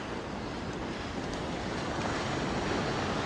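Ocean surf breaking on a beach where someone is fishing, a dense continuous wash of waves with some wind noise, no voices.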